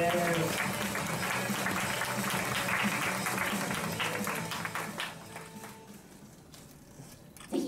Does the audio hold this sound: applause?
yes